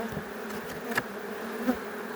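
Honeybees buzz steadily while a beekeeper merges two colonies, a close, continuous insect drone with a few louder passes of individual bees near the microphone.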